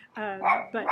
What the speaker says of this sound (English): sorry about my dog. She's still here.